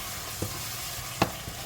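Ground spices such as Kashmiri chili powder, turmeric and garam masala sizzle in a hot pan for chicken biryani, with a steady frying hiss broken by a few sharp scrapes of a stirring spoon.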